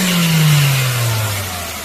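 A Hyundai Sonata LPG engine with about 300,000 km on it, after a noise and vibration treatment, hums close by in a smooth low tone that drifts slowly downward as it settles, with no talking.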